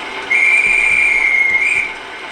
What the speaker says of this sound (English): gives a guard's whistle